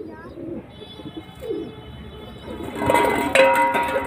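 Pigeons, a pair including a male with dark purple feet, coo softly while being handled, with rustling and chirps building toward the end amid background noise.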